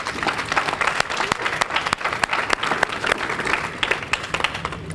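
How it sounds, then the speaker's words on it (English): A room of workshop attendees at a summer youth job program gives a round of applause, dense and lively clapping with crisp individual claps popping out, steady and fairly loud for the whole stretch. "Give them a round of applause."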